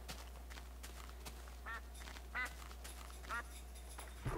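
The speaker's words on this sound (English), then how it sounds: "Quack, quack, quack." Short nasal quacks of a duck in the video game Minecraft, three brief calls spaced about a second apart, moderately clear over a low steady background hum.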